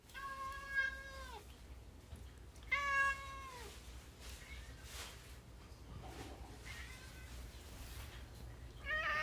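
A house cat named Marv gives a few distinct, drawn-out meows close to the microphone, spaced apart with quiet gaps between them and a final short meow at the end, all without any talking.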